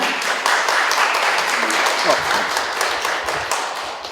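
Crowd applause at the opening of a community forum in Paju, South Korea, a dense wash of many hands clapping at once, loud and sustained for several seconds before tapering slightly.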